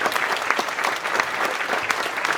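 Dense, loud applause fills a hall as a crowd cheers two winning contestants at a European top model pageant, a continuous wash of clapping without pause.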